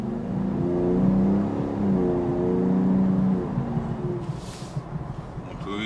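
Turbocharged V6 of a 2017 Ford F-150 Raptor pickup heard from inside while driving, a smooth, rising engine drone that swells and then eases off, with brief speech and faint cabin noise.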